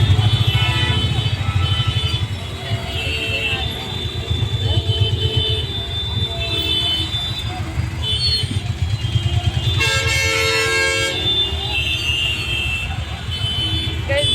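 Car horns honk repeatedly in heavy traffic on a main road in Lucknow, India, with toots overlapping above a steady roar of engines and road noise.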